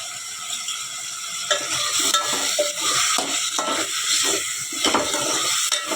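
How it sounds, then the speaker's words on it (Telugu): Drumsticks and cauliflower fry with chilli powder, turmeric and salt, a close sizzle under repeated rhythmic scraping and clinking of a spoon against the pan, with no voices. "ఇప్పుడు ఇవి బాగా ఫ్రై చేయాలి. ఇవి బాగా మగ్గనివ్వాలన్నమాట."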